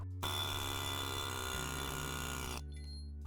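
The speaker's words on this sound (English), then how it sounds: "let's try the air hammer again" A loud, continuous air hammer roar on a rusted front wheel bearing of a Ford Escort, with a steady hum underneath, running for a few seconds before cutting off abruptly.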